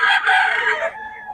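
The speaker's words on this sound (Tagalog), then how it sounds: "Magagaling mga manok na ito" Fighting roosters crowing loudly and close, a strained drawn-out crow lasting about a second that tapers off into a fainter trailing call.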